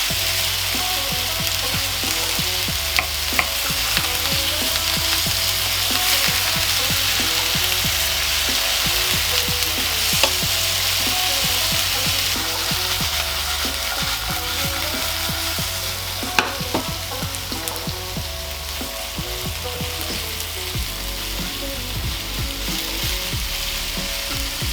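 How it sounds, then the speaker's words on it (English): Tofu crisps in a hot pan for a spicy Korean-style vegan dish, a continuous loud crackling sizzle running for the whole stretch with scattered pops and occasional spatula clicks, close up and without voices. "just want to leave this in the pan until one side's crisped up, flip it over, crisp at the other side"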